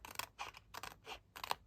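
Five crisp snipping bursts of small scissors cutting card, evenly spaced and close, with short quiet gaps between each cut.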